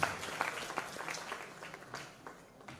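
An audience at a film festival inauguration ceremony claps in a scattered, fairly faint round of applause with uneven individual claps that taper off.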